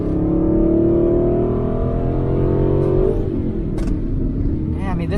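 A 2015 Aston Martin V8 Vantage GT accelerates hard, its V8 engine note climbing steadily through the revs, loud and close from inside the cabin, then dropping away as the throttle lifts near the end.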